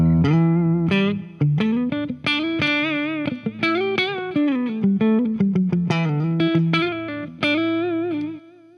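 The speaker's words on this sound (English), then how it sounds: "So that is how it sounds with the reverb and the delay turned on." Electric guitar played through an inexpensive overdrive pedal with reverb and delay switched on, a loud, continuous melodic line of sustained distorted notes with echo tails, alone without talking, about nine seconds.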